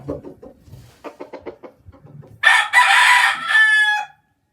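A black-legged Lisay gamefowl rooster on a gamefowl farm clucks in a quick run of soft notes, then lets out one loud, drawn-out crow close up.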